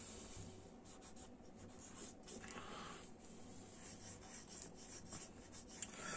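A pencil draws a vehicle wheel on paper: quiet, close, steady scratchy strokes that rise and fall in short bursts and continue without pause.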